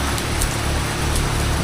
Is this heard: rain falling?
yes